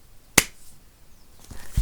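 A voice imitates the slap of a high five as a single sharp, close crack, followed by near silence and a fainter click at the end.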